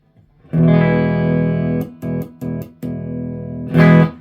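A clean electric guitar chord through a Fender Deluxe tube amp with no reverb rings out, then several quick strums and muted hits follow, ending on a fuller chord. The tone is warm and dry.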